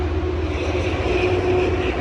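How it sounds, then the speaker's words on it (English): Steady, loud low rumble of heavy logging trucks going by on Route 101, a highway skirting Lake Crescent on the Olympic Peninsula, holding constant with no voices. "Especially loud right now because there's logging trucks going by."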